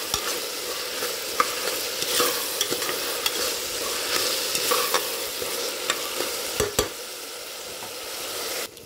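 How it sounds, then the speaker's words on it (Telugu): Onions frying in oil until golden brown, a steady close sizzle with frequent scraping stirs of a spoon in the pan, no voices. "నూనెలోనే చక్కగా గోల్డెన్ బ్రౌన్ కలర్ వచ్చేదాకా వేయించుకుంటాను"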